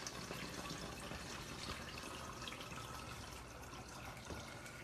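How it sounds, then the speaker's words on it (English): Warm water runs steadily into a measuring cup in a home kitchen, a quiet continuous pouring hiss with soft splashing and no talking. "we're going to do 3 cups of warm water"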